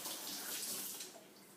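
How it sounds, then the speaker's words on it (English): Tap water running steadily into a sink while hands are washed before cooking, a soft continuous hiss and splash, fairly quiet and close, easing off toward the end, no talking. "So first, we're going to have to wash our hands."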